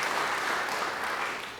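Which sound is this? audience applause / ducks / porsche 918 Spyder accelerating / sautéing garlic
audience applause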